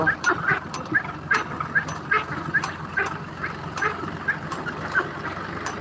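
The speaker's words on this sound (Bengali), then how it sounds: "এটা হাঁসের খামার" Ducks on a duck farm give a continuous run of nasal quacks, many birds calling in quick irregular succession over a low murmur of the flock, close and moderately loud.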